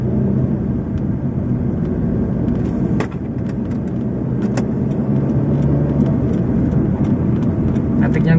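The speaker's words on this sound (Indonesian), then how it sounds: "Pokoknya jempolan tarikan mesin dari Honda Stream ini." A 15-year-old Honda Stream with automatic transmission pulls away on a test drive, its engine a steady low rumble with road noise, loud and continuous throughout.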